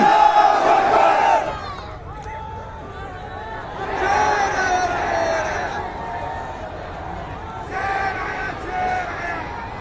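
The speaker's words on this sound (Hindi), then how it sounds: "जोरदार नारे से इस्तकबाल करें अलहाज बैरिस्टर असदुद्दीन ओवैसी साहब" At a political rally in Aurangabad, a large crowd chants Nara-e-Takbeer slogans in three loud, massed bursts of voices separated by brief lulls of murmuring.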